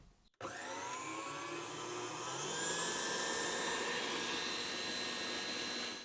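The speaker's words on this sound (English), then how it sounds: "So let's give it 2 minutes on the mixer." An electric mixer whips a foaming sugar scrub, switching on abruptly and then running as a steady, loud whirring drone that rises slightly in pitch before stopping.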